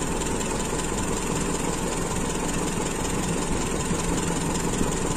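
A Toyota Kijang Super with a carburetor idles steadily, a close, even low-pitched engine drone with a fine rhythmic pulse that holds constant and uninterrupted, with no voices.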